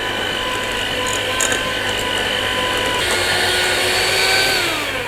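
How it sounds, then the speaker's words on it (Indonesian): An electric hand mixer whirs steadily through cookie batter with two egg yolks, a loud continuous motor hum with a slight pitch shift partway through and faint clinks against the bowl. "Terus kita mixer kembali sampai dia tercampur rata."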